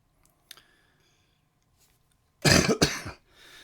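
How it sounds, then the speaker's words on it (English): A loud, harsh cough burst with a second hack right after, near and clear, following a few faint clicks and rustles in an otherwise quiet room. "Apologise for my cough."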